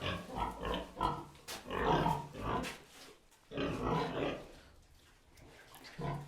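Pigs grunt and snort in uneven bursts on a farm in Ukraine's Rivne region, fairly close, with quieter gaps between the louder grunting.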